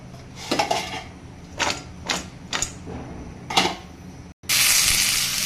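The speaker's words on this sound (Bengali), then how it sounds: "দেখুন এই সবজিটাকে ভেজে নিচ্ছি" Mixed vegetables, including pointed gourd, radish and pumpkin, go into hot oil in a kadai: several sharp clattering strokes of a utensil, then a loud, steady sizzle of frying at the end.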